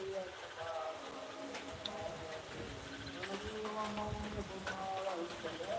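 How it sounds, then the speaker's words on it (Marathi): Steady rain pours down on a village in a dense, continuous hiss, with faint birdsong and distant voices drifting through at times. "खूप जास्त पाऊस पडत आहे आपल्या गावात"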